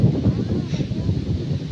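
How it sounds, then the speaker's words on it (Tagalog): Strong wind blowing across an open nature park, a steady broadband rush with gusty swells that carries on throughout. "Tapos ang lakas ng hangin na sarap."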